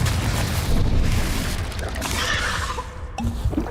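Confringo blasting curse explosions in Hogwarts Legacy, a loud sustained boom and crash that rumbles for a few seconds and then fades to softer crackling debris.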